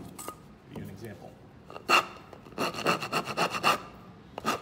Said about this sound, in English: I don't recommend using a rasp on metal